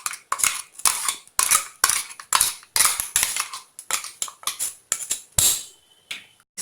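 Ground coconut and spice paste being added into a pot of sambhar, giving a rapid run of sharp metallic spoon scrapes and taps against the vessel, close and fairly loud, in an irregular rhythm with no voices.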